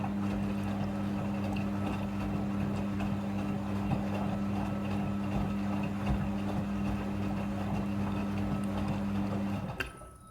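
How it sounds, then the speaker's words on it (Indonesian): A Midea front-loading washing machine runs its second water rinse cycle while washing a bed cover, giving a steady low motor hum with churning water that continues evenly before cutting off abruptly near the end. "masuk ke proses pembilasan air yang kedua"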